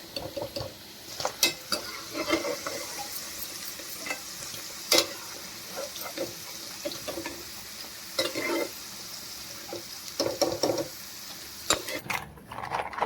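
Broad beans (chikkudukaya) frying in a pan over low heat, a steady crackling sizzle with repeated scraping stir strokes and occasional clinks of a utensil against the pan.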